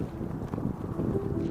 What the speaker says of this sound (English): Really windy. Relentlessly windy.